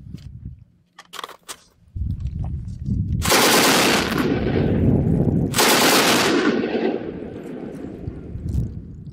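A Bren light machine gun fires in Battlefield 5 in two sustained loud bursts of rapid, close shots, each ringing off into a rumbling echo, after a few quieter clicks and handling noises.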